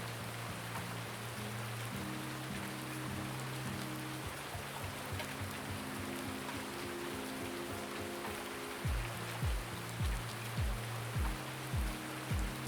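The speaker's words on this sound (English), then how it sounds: "Which is why it's raining." Rain falls steadily in a farming video game, a soft even hiss running throughout, with low machine hum and a few thumping knocks in the background.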